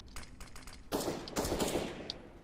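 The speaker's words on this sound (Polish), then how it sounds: "gdzieś tam ktoś strzela" Gunfire in Counter-Strike: Global Offensive, a few quick distant shots followed by a louder burst of rapid automatic fire and scattered rounds, fairly faint overall.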